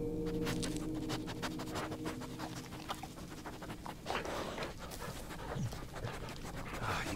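A dog named Bullet pants rapidly and sniffs close by in the horror game Blair Witch, a steady breathy rhythm with scattered scratchy bursts over a low background hum.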